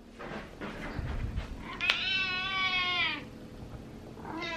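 Cat meowing close by, one long drawn-out plaintive meow followed by the start of another, with some rustling before it.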